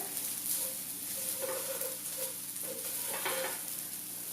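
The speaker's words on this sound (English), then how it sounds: "I'm mixing all of this together." Turmeric rice being stirred together in a pan, giving a soft steady sizzle with scraping strokes from the spoon, close and continuous with no talking.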